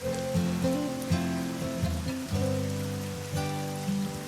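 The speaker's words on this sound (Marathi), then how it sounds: "वरून पडणारा प्रचंड पाऊस" Heavy rain pours down in dense forest with a constant hiss, joined by a few faint tonal chirps in the background.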